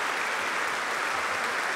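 Steady, dense applause from a concert audience after an encore fills the hall evenly, with no pauses or individual claps standing out.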